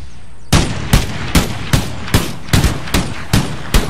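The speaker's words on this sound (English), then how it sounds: "Those puckle guns have been a wonder." Puckle guns fire in Empire: Total War battle, a regular volley of about nine sharp, loud shots roughly every 0.4 seconds, each with a short decaying tail, close and alone without talk.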